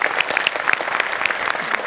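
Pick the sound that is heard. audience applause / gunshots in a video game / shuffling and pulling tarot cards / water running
audience applause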